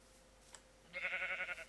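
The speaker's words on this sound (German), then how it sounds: "Da ist ein Schaf." A sheep in the video game Minecraft lets out a single short, wavering bleat, fairly clear and alone after a brief quiet moment.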